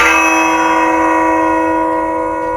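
A single bright bell strikes once and rings on, its tone sustaining loud and clear and fading only slightly over a couple of seconds, with no other sounds.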